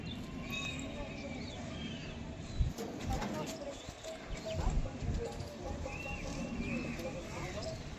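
Andhra pigeons, a male and female pair at a bird sale, give low soft cooing over a steady background of birds and market noise, with a few thumps and a voice talking.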